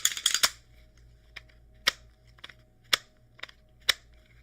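A handgun having its magazine removed, heard as a quick cluster of sharp metallic clicks followed by several separate clacks and taps, close and crisp with a faint hum behind.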